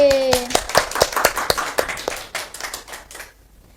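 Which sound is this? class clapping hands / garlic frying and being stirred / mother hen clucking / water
class clapping hands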